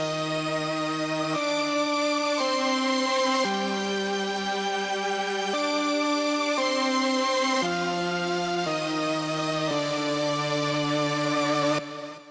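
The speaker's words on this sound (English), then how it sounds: "landed on this using ShaperBox to have the distortion increase over a 2-bar period" Sustained lead synth line with ShaperBox distortion building steadily over two bars, moving through held notes with a bright, harmonically rich tone, loud and alone.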